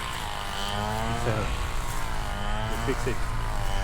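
A drone flying over countryside in the Isan region of Thailand gives a steady whirring hum with faintly wavering tones, while a voice speaks in French under it.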